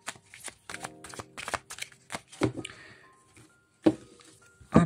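Oracle cards from a large impressionist-themed deck are shuffled and drawn, giving a run of quick, close riffling flutters and soft snaps followed by a few separate card slides.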